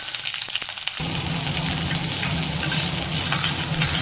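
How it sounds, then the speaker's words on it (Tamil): Ginger, green chilli and shallots frying in a little oil, a steady close crackling sizzle that kicks in abruptly after a quiet start and carries on loud and even with no talk. "கொஞ்சமாக எண்ணெய் ஊற்றிட்டு ஒரு 1/2 துண்டு இஞ்சி, காரத்துக்கு பச்சை மிளகாய், சின்ன வெங்காயம்"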